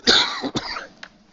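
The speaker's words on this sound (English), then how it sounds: "Pardon me, I'm still coughing a little bit." A person coughs several times in quick succession, a harsh close cough followed by shorter throat-clearing bursts, with no talk over it.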